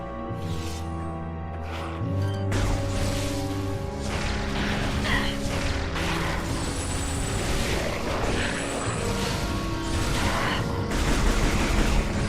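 Turrets in the video game Metroid Prime 3 fire in a sustained barrage of rapid blasts lasting over ten seconds, layered over a steady humming game background.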